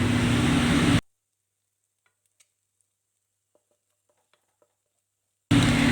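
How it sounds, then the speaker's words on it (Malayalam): Finely chopped garlic and ginger sizzle loudly in a frying pan for a Kerala street-style quail egg roast, the hiss bursting in briefly at the start and again at the end with near silence between. "ഇനി ഞാനിവിടെ ഒരു 2 വെളുത്തുള്ളിയും ഒരു ചെറിയ കഷ്ണം ഇഞ്ചിയും ചെറുതായി അരിഞ്ഞത് ഇട്ട് കൊടുക്കുന്നുണ്ട്."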